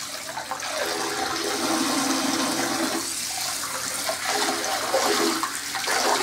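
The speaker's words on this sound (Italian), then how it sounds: "Qui c'è una pressione incredibile perché tanto l'acqua del fiume c'è, quindi la pressione ce n'è tanta." Water from a powerful aqueduct supply gushes under high pressure into a bath tub at Lourdes, a continuous loud rushing and splashing hiss with slight surges.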